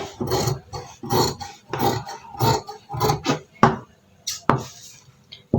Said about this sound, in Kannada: ಈಗ ನಾನು ಕಟ್ ಮಾಡ್ತೀನಿ